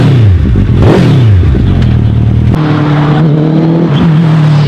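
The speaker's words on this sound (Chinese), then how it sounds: "首先第一台是号称最快的量产三轮摩托铃木隼" A Suzuki Hayabusa-based three-wheeled motorcycle with a 1340 cc engine revs loud and close, its pitch rising sharply, dropping, then climbing again in a series of throttle blips.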